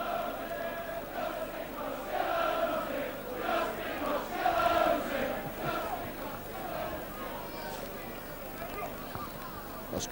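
A rugby league stadium crowd at Leeds roars and swells in waves under a commentator's voice, rising to a peak midway before settling back.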